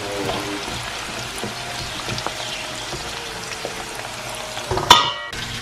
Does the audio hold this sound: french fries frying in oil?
yes